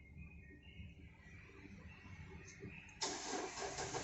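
Ford Everest 2014/15 Limited SUV engine cranking over at close range, a low rumbling interior sound that then erupts at about three seconds into a sudden broad roar as the engine catches and runs loud.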